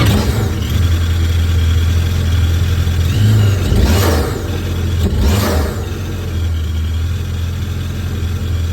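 A 2019-or-later Yamaha FX SVHO personal watercraft engine breathing through a Riva Power Filter intake drones loudly and steadily up close, swelling in two short revs midway before settling back to a constant run.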